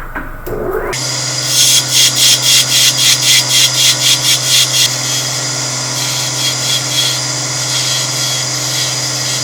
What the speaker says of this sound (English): do a little finish sanding